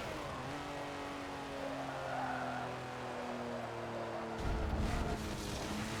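Game car in Forza Motorsport 7 easing off the throttle: steady engine drone with low harmonic lines that hold, then drop away near the end into a rougher burst of tire and engine noise, with no talking.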